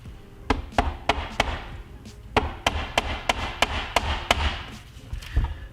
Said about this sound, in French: Vous munir d'un marteau avec tête en caoutchouc.